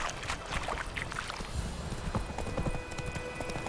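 Roach, the horse from The Witcher 3, gallops with a steady, rapid clip-clop of hooves close by, mixed with faint game ambience and a brief whinny.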